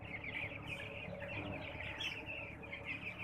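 Broiler chickens huddled together in a pen keep up a continuous flock chatter of clucks and chirps, moderately close, with no talk over them.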